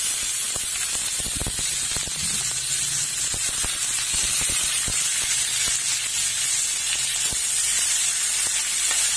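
Meat sizzles in a hot pan while sautéing for menudo, a steady bright hiss broken by scattered pops and spits, close and constant throughout.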